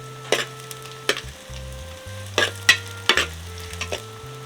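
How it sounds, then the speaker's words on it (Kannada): Finely chopped onion and tomato fry in a pan for a jeerige-menasu style chicken curry, with a soft steady sizzle broken by several sharp scrapes and knocks of a spoon stirring, close and clear, with no talking. "ಸಣ್ಣದಾಗಿ ಕಟ್ ಮಾಡಿದಂಥ ನೀರುಳ್ಳಿ, ಸ್ವಲ್ಪ ಹುರಿಯುವ"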